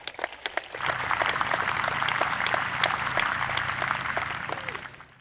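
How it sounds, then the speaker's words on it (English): Graduation ceremony audience applause rising quickly into dense, steady clapping from a large crowd in a hall, holding evenly before tapering at the end. "And for that, we applaud you."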